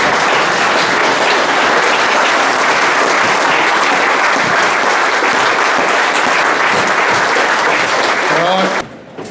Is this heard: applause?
yes